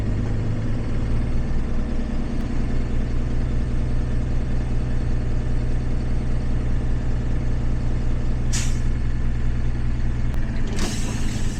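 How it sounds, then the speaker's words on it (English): A 2015 Thomas C2 truck engine running steadily at a raised idle with a constant mechanical drone and hum from a slightly noisy air compressor, and a brief hiss of air near the end. "air compressor's a little noisy"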